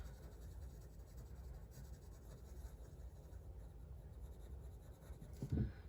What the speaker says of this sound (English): I'm going to take my pencil and I'm going to start in circles, making a darker value